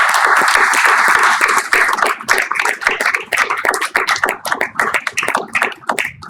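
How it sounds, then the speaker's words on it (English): Loud, dense applause from a large audience at a conference session, steady at first and then breaking into more scattered clapping toward the end. "let's give a big round of applause right now"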